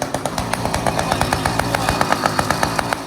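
A motorcycle engine idles after a hard cold start in the freezing Himalayan mountains of Nepal, a steady rapid loud thumping pulse with even, slightly high revs.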